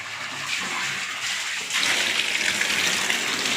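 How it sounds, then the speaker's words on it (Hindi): A slow-flowing tap runs steadily, water splashing into a basin; the flow grows slightly louder partway through, with no talking. "नल में बहुत स्लो पानी आता है।"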